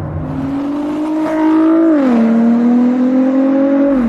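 A Ford GT fitted with a Quicksilver Inconel exhaust revs up loud and close, its engine note climbing in a steady rising tone, dipping briefly, then holding high and smooth before easing off.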